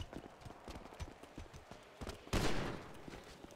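Gunfire in the FiveM online game during a street shootout, a rapid burst of shots that rings out loudly after a stretch of quick clattering game noise.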